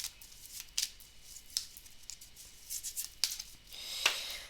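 Astrology cards are shuffled by hand, making soft papery rustles broken by several sharper snapping riffles at uneven intervals, close up with no voices.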